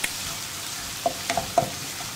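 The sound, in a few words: crushed shallots sautéing in pan on high flame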